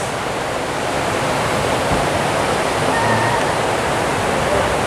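Water pours steadily over a stone ledge at the Fort Worth Water Gardens, a dense, unbroken rushing wash heard up close and fairly loud throughout.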